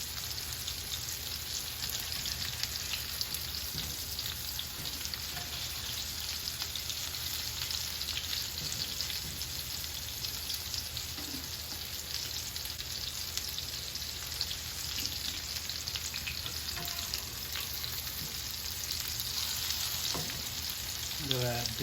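A lion's mane mushroom patty fries in a pan after being flipped, a steady faint sizzle with scattered soft crackles running unbroken for over twenty seconds, no voices.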